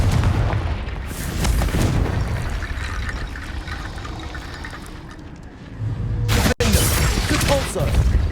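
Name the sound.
Confringo blasting spell in the Hogwarts Legacy video game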